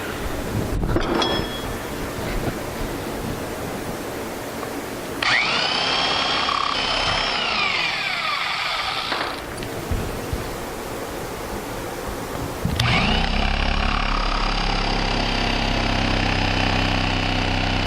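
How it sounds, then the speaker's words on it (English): A Sawzall reciprocating saw cuts through axles in loud, harsh bursts, with several separate cutting passes separated by brief changes in pitch and tone, with no speech. "So I'm going to take the Sawzall and clip these off where they should be."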